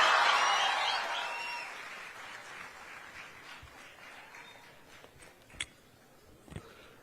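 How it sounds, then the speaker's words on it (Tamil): Audience applause welcoming composer and actor G.V. Prakash at a school event, loud at the start and fading away over several seconds, with a couple of brief sharper claps near the end. "உற்சாகமான கைத்தட்டலோடு அழைக்கின்றேன்."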